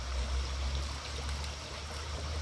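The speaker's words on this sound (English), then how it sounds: "when I dump this out for my first rinse, I'm dumping it downstream" Water from a sampling bottle is dumped into a flowing tributary stream, a continuous close splashing trickle over the steady rush of the current.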